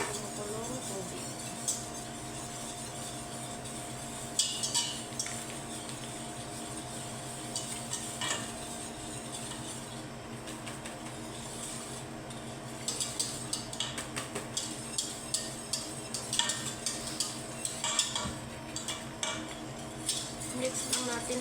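Utensils scrape and clink against a metal pot in steady stirring of cherry jelly mix dissolving in boiling water, with soft scraping texture and occasional louder taps, close by and without talking.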